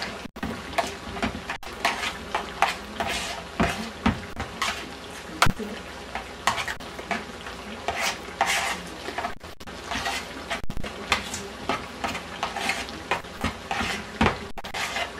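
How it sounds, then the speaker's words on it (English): Stirring a cooked hamburger meat mixture in a pot for lasagna, with repeated soft scraping and clinking strokes in an irregular rhythm that stays close and moderately loud throughout. "You just want to make sure it's all mixed in together, but you don't want to over mix it"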